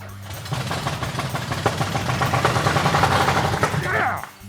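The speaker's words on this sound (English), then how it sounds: "That is an engine that hasn't ran for 50 years, folks." An old car engine that sat unused for decades runs close and loud with a rough, rapid, pulsing chatter, then sputters and cuts out near the end.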